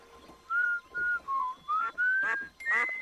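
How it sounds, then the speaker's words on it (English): A person whistles a short tune to call ducks, a series of about six clear, separate notes that step upward in pitch, heard up close over faint background ambience. "Keep whistling"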